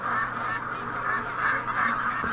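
Library recording of a flock of geese honking, a dense, steady chorus of overlapping calls with no voices.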